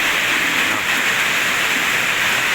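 Steady rain pouring down at a home in Thailand, a dense, even hiss of drops on surfaces that holds at one loud level the whole time, with no voices.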